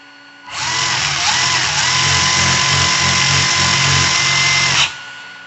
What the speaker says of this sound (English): Let's now turn on the car and see how it sounds and how it reacts.